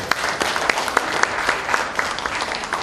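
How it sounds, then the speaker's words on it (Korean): Audience at a Korean business federation's extraordinary general meeting clapping together, a steady, fairly loud round of applause with sharp individual claps standing out throughout. "다시 한번 고생하신 우리 오세훈한테 박수 한번 부탁드리겠습니다"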